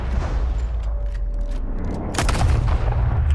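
Gunfire in Red Dead Redemption 2 bursts out as a loud cluster of sharp shots near the end, following a quieter stretch of game ambience with a faint low rumble.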